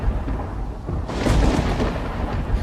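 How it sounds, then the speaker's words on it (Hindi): Deep rumbling thunder from dense storm clouds as a cartoon sound effect, a steady low roar that swells louder midway and rolls on without pause, with no voices. "घने बादल गरज रहे थे।"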